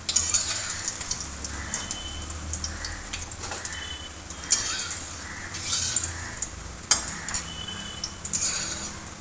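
Eggs fry in oil for an egg curry, giving a loud continuous sizzle broken by repeated clinks and scrapes of a utensil stirring against the pan.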